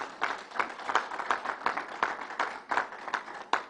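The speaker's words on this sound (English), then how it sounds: "Let's give Northwell a round of applause" A crowd at a Belmont Park announcement applauds Northwell, sparse, moderately loud clapping that comes in uneven bursts rather than a dense roar.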